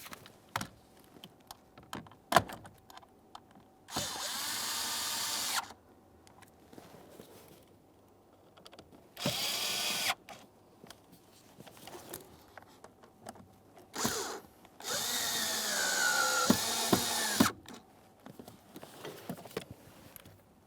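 A power drill snugs up screws on a blower motor assembly in a 2008-2017 Mitsubishi Lancer, with four short whirring bursts of about one to two seconds each separated by quiet clicks and handling, close and moderately loud, with no talking.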